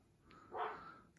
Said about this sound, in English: That's Cookie and the neighbour dog